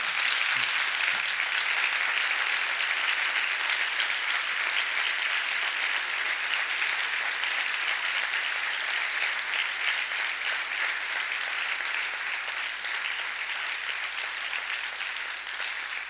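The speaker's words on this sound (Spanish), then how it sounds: "Un aplauso para el gran Manolo" Audience at a literary festival talk applauds the writer Manolo, a loud, dense and sustained roar of many hands clapping that continues unbroken for the whole stretch.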